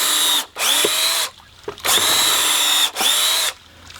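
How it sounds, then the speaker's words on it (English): Power drill boring pilot holes with a 7/16 drill bit into a wooden flume piece, three loud whining bursts of spinning motor separated by brief pauses, close and with no talk. "Now I like to use a 7/16 drill bit to start my pilot holes. So just set a foot up on your flume piece and drill"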